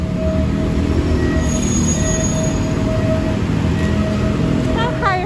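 A train rolls past close by on a city line in Bangkok, its wheels squealing in long high whines over a steady loud rumble, with people talking faintly nearby.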